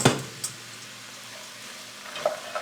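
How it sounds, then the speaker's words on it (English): A pound of soaked, drained red kidney beans tipped into a soup pot, an initial clattering pour followed by a quiet sizzle and a few small knocks, close with no talk. "now let's add our beans"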